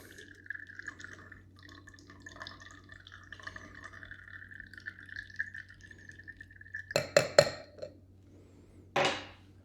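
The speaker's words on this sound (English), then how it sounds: "We are going to strain this back into the pint glass." A cocktail is strained back into a pint glass, with faint liquid trickling and a soft whine, then a few sharp clinks of ice and glass and a brief splashing pour near the end.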